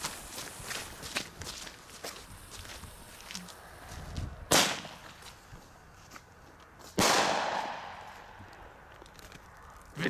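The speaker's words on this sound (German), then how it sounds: "Aber die Knalls müssten schneller hintereinander kommen." An Xplode double-bang firework lit outdoors gives two sharp, loud reports a couple of seconds apart, one bang on the ground and one in the air, the second echoing briefly, after quieter footsteps and rustling.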